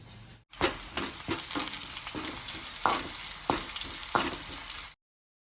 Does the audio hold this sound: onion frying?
yes